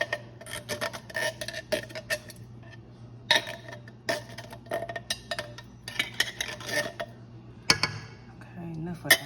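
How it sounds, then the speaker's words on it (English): Tomatoes and cheese stirred together for Rotel dip, giving soft scraping and clinking of a utensil against the dish in irregular strokes, with quiet clatter throughout. "you're gonna stir the tomatoes and cheese together"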